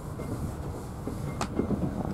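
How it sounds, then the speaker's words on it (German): A tram passes close by with a steady low rumble, a brief metallic wheel squeal about midway, and faint rail clatter afterward. "Straßenbahn."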